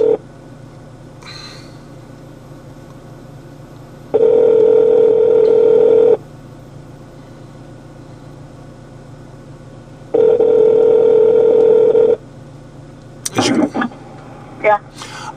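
A phone call rings out through a Droid Roadster speakerphone in a car: two long, steady ringback tones separated by a few seconds of low hum, then brief clicks and noises at the end.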